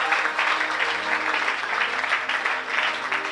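A church congregation applauds steadily: loud, sustained clapping from many hands filling the room with a continuous patter, unbroken throughout.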